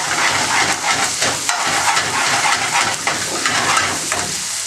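Ginger garlic paste with a little tomato puree sizzles hard in a hot pan, a loud, dense hiss with scattered pops and crackles running steadily throughout, close and alone.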